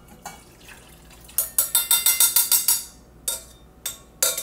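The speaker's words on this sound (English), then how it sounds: "I'm gonna pour this back into that bowl." Liquid poured back into a bowl in a home kitchen comes as a rapid run of close splashing glugs, then a pause and a few separate splashes.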